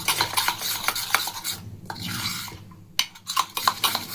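A spoon stirs and scrapes a cocoa powder mixture in a bowl in quick, rasping strokes, close up. There is a brief lull before the brisk scraping starts again.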